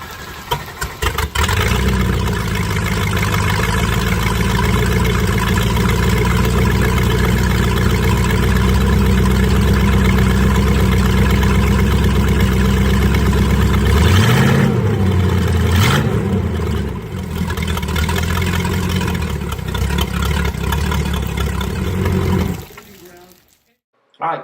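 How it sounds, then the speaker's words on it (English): A boat engine, hooked up to water, idles steadily to warm up, a loud continuous low rumble with a brief rev in the middle before cutting off; a voice talks over it. "we're going to start this engine up and we're going to let it run until it's good and warm"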